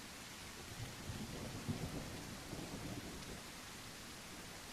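Steady video game rain hisses continuously with low rumbles of thunder mixed in, faint and even throughout, no voices.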